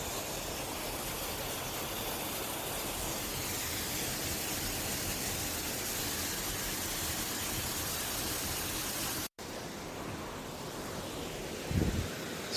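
Scale Force waterfall in the Lake District rushes as a steady, loud broadband roar that fills the scene without a break, with a brief dropout near the end and no voices.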